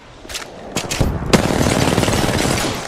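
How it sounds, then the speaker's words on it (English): Gunfire in the video game Apex Legends: a few sharp shots ring out, then a dense ragged burst of rapid fire follows, loud and close, with no talk. "Shots fired at me"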